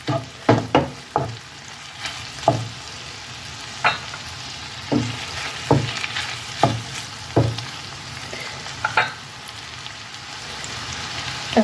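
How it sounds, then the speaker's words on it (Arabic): Chicken and leeks sauté in butter, a soft sizzle broken by a dozen or so sharp scrapes and clacks of stirring spread unevenly across the clip, with no speech. "وضعت هنا الزبده يعني الحيوانيه والدجاج. غادي نزيد واحد الكميه ديال البورو، غادي نشحر كلشي حتى يطيب الدجاج."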